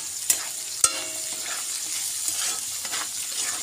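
Chowmein with salted roasted peanuts cooks in a pan, giving a steady frying sizzle with a couple of sharp scraping knocks as it is stirred, close and moderately loud, with a brief spoken word.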